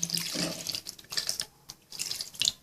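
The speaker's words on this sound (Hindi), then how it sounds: "ये एक गिलास पानी डाल लेना है।" Water poured from a glass into a pot of boneless chicken for a restaurant-style chicken cream handi, a close splashing gush in uneven bursts over about two and a half seconds.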